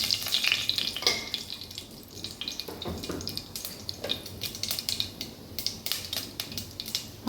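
Mustard seeds and urad dal sizzling in about 100 ml of hot oil for a vegetable biryani, with a close, steady crackle and sharp popping bursts spread throughout, and no talk.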